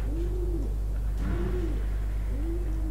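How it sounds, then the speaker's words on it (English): A pigeon in the horror video game Summer of 58, set at a summer camp, gives three evenly spaced rolling coos, close and clear over a constant low hum. "Oh, hello, pigeon."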